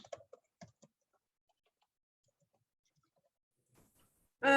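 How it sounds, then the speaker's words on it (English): A few quick keyboard clicks tap out in a short burst, then near silence, with a brief voice at the very end. "I'm typing into the window now"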